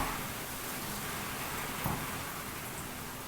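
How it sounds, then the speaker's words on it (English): Heavy rain in Jerusalem pours down as a dense, steady hiss that fills the whole scene without a break, with one brief low thump partway through. "It's really raining."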